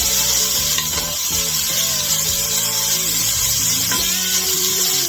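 Cut-up bacon pieces fry in a pan with a steady, loud hiss and crackle that fills the whole span, with faint clinks and scrapes of a utensil underneath and no talking.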